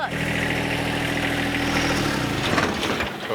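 A tractor engine runs close by with a steady, loud, low throb, and its tone drops partway through as if it is bogging down or shutting off.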